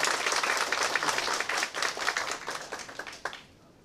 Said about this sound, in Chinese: 我们以热情掌声来欢迎我们行政院农业委员会我们渔业署我们署长陈天寿